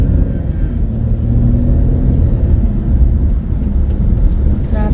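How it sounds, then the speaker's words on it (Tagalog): Heavy road traffic on an early-morning commute rumbles continuously and loudly, a dense low engine drone of nearby vehicles with no clear breaks. "Traffic ay siya traffic."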